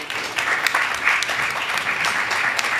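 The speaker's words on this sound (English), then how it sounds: "Please welcome with a round of applause Supervisor DeSena." A crowd at a Bharatanatyam arangetram claps steadily and fairly close, a dense patter of applause lasting a few seconds.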